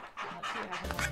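Panting from a virtual puppy in the Playroom VR video game, a short run of quick breathy puffs heard close and fairly quiet, with no one talking over it.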